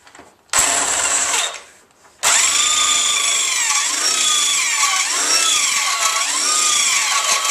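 A power drill whines loudly up close while drilling holes in metal for a tow hitch, cutting out briefly, then grinding on continuously with its pitch dipping and rising under load.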